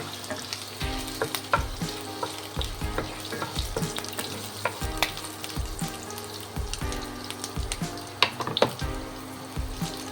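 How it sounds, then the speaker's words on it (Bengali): Finely chopped ginger fries in hot oil with a steady crackling sizzle, dotted with sharp pops and the scrape of stirring, for a vegetable sweet and sour dish; no one speaks. "আদা কুচিগুলো একটু ভাজবো, যাতে তেলে ফ্লেভারটা আসবে।"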